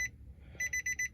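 The dashboard warning chime of a Nissan Grand Livina L10 sounds as the ignition is switched on. One short beep is followed by a pause, then four quick, evenly spaced electronic beeps, close and clear inside the cabin.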